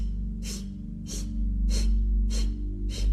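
Forceful breaths out during purification breathwork, five sharp bursts spaced about every 0.6 seconds over a steady low hum, close and fairly loud.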